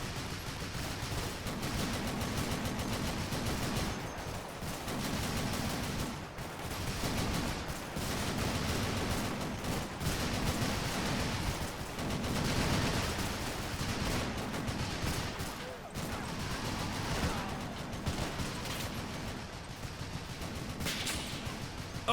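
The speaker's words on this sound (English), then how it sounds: "the 50 caliber machine gunners can cover and fire at the enemy defenses as they're backing up" Machine gun fire during a video game amphibious invasion, with fifty-caliber guns among the weapons: dense, continuous bursts of gunfire with rolling rattles and heavier blasts mixed in, loud and sustained throughout.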